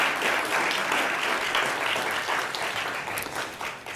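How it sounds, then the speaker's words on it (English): Steady, sustained audience applause fills the room for Lynnwood city council and mayoral candidates after a community conversation event, even and continuous throughout at moderate loudness. "Applause, please."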